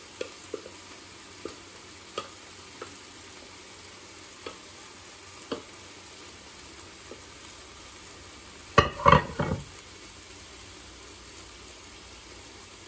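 Chicken pot pie vegetables are tipped into a hot pan, setting off a sudden burst of loud sizzling after a stretch of quiet with scattered light knocks and clicks, close by with no voices.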